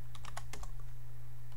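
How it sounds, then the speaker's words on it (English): Typing a captcha on a computer keyboard, a quick burst of about six crisp key clicks close by over a steady low electrical hum, then quiet hum alone. "type in the captcha or whatever it's called"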